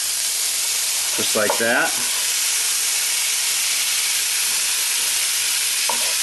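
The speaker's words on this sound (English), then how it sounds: "So you just throw your beef in there," Cubed beef frying in a spiced pot for Hungarian goulash, a loud continuous sizzle and hiss close up, with a short spoken phrase partway through and a faint voice again near the end.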